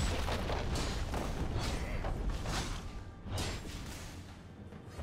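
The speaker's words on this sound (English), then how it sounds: "Red team's turret has been destroyed." A turret collapsing in League of Legends, a deep booming crumble with whooshing debris and thuds, loud and dense at first, then a sharp hit before it tails off into fading rumble.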